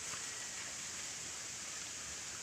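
Heavy rain falls steadily on a farm in the countryside, an even, dense hiss of downpour throughout with no voices.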